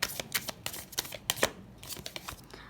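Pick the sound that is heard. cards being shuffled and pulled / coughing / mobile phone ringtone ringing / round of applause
cards being shuffled and pulled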